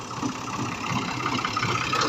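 A Fiat 480 tractor engine runs steadily while driving a water pump in a field, a close, even diesel drone with a faint knocking rhythm.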